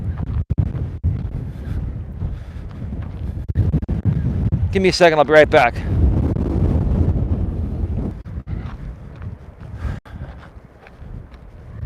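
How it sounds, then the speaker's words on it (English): Strong wind buffeting a microphone outdoors, continuous low rumbling gusts under a man's brief speech, with a whistling sound in the middle and the roar staying loud throughout. "It is very windy until I get to the corner up here, and then the wind's hitting my back."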